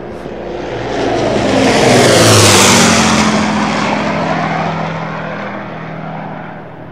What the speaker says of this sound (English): That plane scared me.